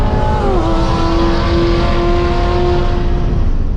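A built 900-horsepower Corvette Z06 runs a drag race against a rival car, heard as a loud, sustained engine roar whose pitch climbs then holds steady through a gear change; no voices.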